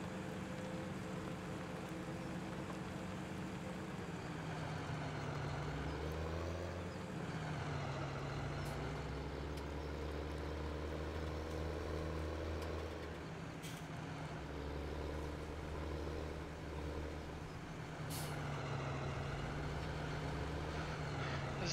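Loader tractor engine in the Farming Simulator 2017 video game, a steady low diesel drone that rises and falls as the throttle changes, heard alone at an even, moderate level.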